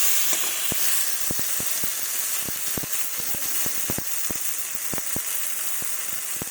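Rohu fish curry with tomato and eggplant being sautéed in a pan, a loud steady hiss of frying with many quick spatula taps and scrapes in an irregular rhythm, close up.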